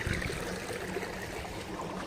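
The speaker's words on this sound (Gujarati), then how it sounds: "આ મોટરનું પાણી ડાયરેક્ટ બાર બહાર લીધું છે આપણે પાણી ચાલુ છે" Steady rushing and splashing of water flowing from an electric pump outlet into a cumin field for irrigation, continuous and fairly close, with no voices.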